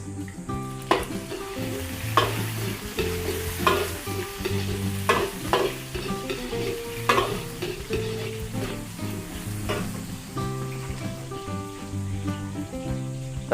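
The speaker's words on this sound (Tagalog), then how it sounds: "Gisa na po tayo ng bawang." Garlic and onion sauté in a hot pan, a steady sizzle broken by repeated scraping stirs, with music playing underneath.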